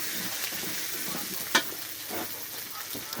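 Food stir-fries, sizzling steadily in a hot pan, with occasional scraping clinks of a utensil stirring, close and fairly quiet.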